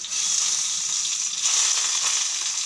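Chopped garlic dropped into hot oil with dried chillies and black cumin, a steady loud sizzle and crackle that holds throughout with a brief swell near the middle.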